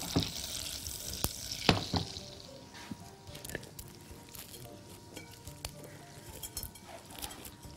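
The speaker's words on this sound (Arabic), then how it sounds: "خليني اخد الزبده ونحطها على النار بس تدوب بالشكل ده" Butter melting in a pan on the stove for a chocolate croissant pudding, with a soft, steady sizzle and a few clinks, close and on its own.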